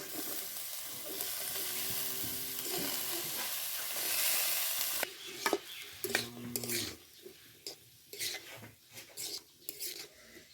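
Spices sizzle in a hot pan, then ash gourd is tipped in, the frying hiss breaking into clatter and stirring scrapes with intermittent metal knocks.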